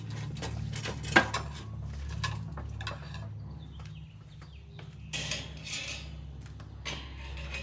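Stainless steel Alpha Grillers BBQ tools, a spatula, tongs, brush and fork, clinking and rattling as they are handled, with sharp metallic taps and scrapes over a low background hum.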